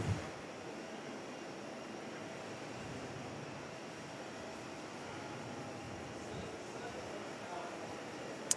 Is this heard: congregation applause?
no